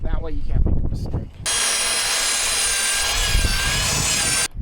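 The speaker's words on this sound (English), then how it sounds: "cut it with the Sawzall" A Sawzall cuts through a wooden stair part in one continuous harsh, buzzing stretch of about three seconds, loud and close, after a moment of rustling handling noise.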